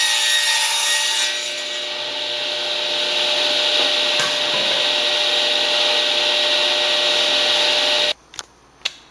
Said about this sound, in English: now I'm just going to trim off the excess from each one. So I just set the height of the table saw to the exact height of the cut